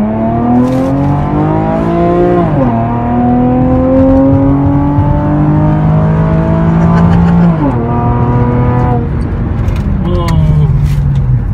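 A Chevrolet Camaro with an open exhaust revs loudly and close, the engine climbing and dropping in pitch across several long pulls, with a brief voice heard once.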